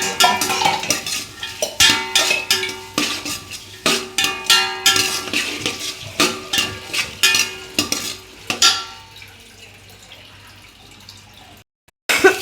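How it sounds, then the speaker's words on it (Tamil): Onions sautéed in a pan for a duck curry, with a spoon stirring and scraping in quick irregular strokes over a soft sizzle, loud and close, then the stirring stops and the frying fades before a brief cut. "அடுத்து வெங்காயம் போட்டு நல்லா வதக்கிக்கலாம்."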